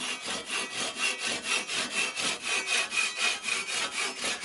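A hand saw cuts through wood at close range in a steady, even rhythm of roughly a dozen rasping back-and-forth strokes, with no voices.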